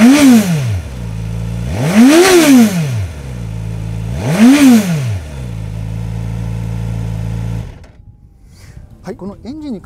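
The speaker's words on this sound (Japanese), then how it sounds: "それではエンジン音をチェックしたいと思います" A Suzuki KATANA motorcycle, powered by an engine based on the 2005 long-stroke GSX-R1000, revs sharply three times with quick rises and falls between steady idling, then shuts off.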